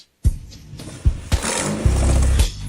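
An old, flood-damaged Toyota Prado 4000 engine cranks, catches and settles into a deep, rumbling idle, deepened by a deformed exhaust, with a few heavier revs and thumps along the way.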